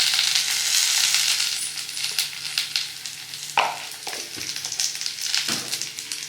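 Garlic, green chili, peppercorns and turmeric sizzle in a hot pan, a steady close hiss that fades slightly, broken by a few sharp clinks and scrapes of a spoon, no voices.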